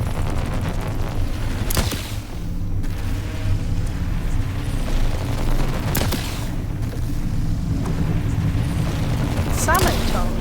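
An electric rifle fires in the survival game The Last Caretaker, with three sharp, loud discharges spaced a few seconds apart over a continuous mechanical background hum, while a player talks.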